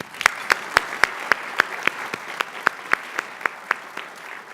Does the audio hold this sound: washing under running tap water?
no